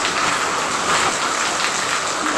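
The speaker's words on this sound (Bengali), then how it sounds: "আর এই যে দেখো বাইরে প্রচুর বৃষ্টি, তোমাদের বৃষ্টি দেখাচ্ছি বন্ধুরা।" Heavy rain falling outside, a dense, even hiss of downpour that stays loud and unbroken throughout, with no voices over it.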